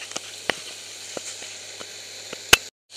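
Veal schnitzel with sage fries in a pan, giving a steady close sizzle broken by a few sharp pops and crackles, with no voices.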